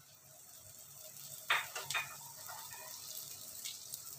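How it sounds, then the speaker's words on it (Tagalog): Butter melting in a pan for chicken carbonara, a soft steady sizzle with a few sharper crackles and spatters midway, faint and close, no speech. "Ilagay natin ngayon yung ating butter."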